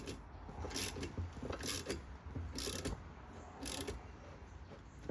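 A brake line flaring tool is tightened by hand, giving four evenly spaced squeaky, grinding strokes, close but quiet, with no voices.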